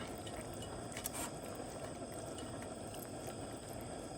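Chili simmers in a pot on a Trangia camping stove, a steady low bubbling and hiss with faint drips, continuous and fairly quiet, heard alone without talk.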